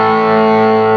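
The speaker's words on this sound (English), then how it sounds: "that is essentially a distortion pedal" An electric guitar runs through a JHS 3 Series Screamer distortion pedal into a Fender Tone Master Twin amp, holding one loud, buzzing, overdriven sustained chord with no talking.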